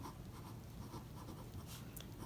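A pen scratching across paper as a name and address are handwritten on a large envelope, a soft continuous scribbling with small strokes, close and quiet, no voices.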